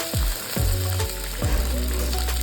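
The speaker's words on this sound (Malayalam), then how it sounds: "ചട്ടിയിൽ കുറച്ച് എണ്ണ ഒഴിച്ചു, കടുക് താളിച്ചു, അല്പം കറിവേപ്പില ഇട്ടു." Mustard seeds and curry leaves frying in hot oil in a pot for a fish curry, crackling and sizzling loudly up close with a few sharp bursts as ingredients hit the oil.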